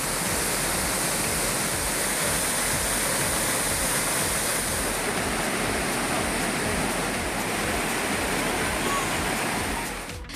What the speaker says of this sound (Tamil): மேற்கு தொடர்ச்சி மலைப்பகுதிகளில் பெய்து வரும் மழை காரணமாக குற்றால அருவிகளில் தண்ணீர் ஆர்ப்பரித்து